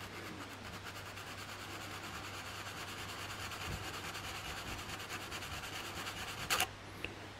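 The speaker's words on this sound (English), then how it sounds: "I'm going to keep sanding this till I get that nice shape" Steady, even rasping of sandpaper rubbed over wood by hand, a continuous scratchy hiss with a couple of sharp knocks near the end.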